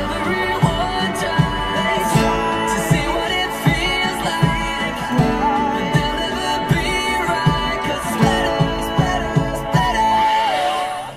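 Electric guitar strumming the bridge of a song, a loud, even chord pattern with accented strums marking a regular beat, played alone without voices.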